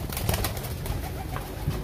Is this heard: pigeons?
yes